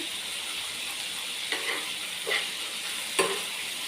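A spicy chicken curry with tomato simmers and sizzles over a low gas flame, a steady soft hiss broken by a few brief stirring scrapes of a spoon; no talking.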